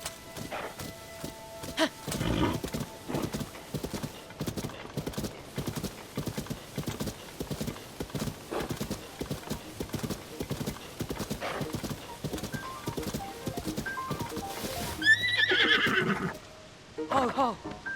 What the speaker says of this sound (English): the horse is actually for Breath of the Wild.